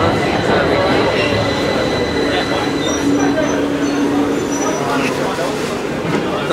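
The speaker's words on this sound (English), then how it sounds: "The train has just come." A London Underground train rumbles into the station close by, wheels grinding and squealing faintly over a constant roar, with voices talking over the noise.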